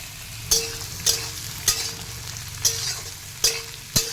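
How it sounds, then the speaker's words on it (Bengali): Carrot and capsicum stir-fry in a hot pan with whole spices, a low steady sizzle punctuated by six evenly spaced sharp spatula scrapes against the metal, close and clear with no voices. "নিয়ে এর মধ্যে দিয়ে দেবো গাজর আর ক্যাপসি।"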